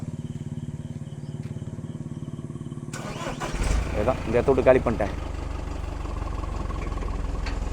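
A garbage truck engine in Puducherry cranks and catches, then settles into a steady, close, rumbling idle, with a person talking over it.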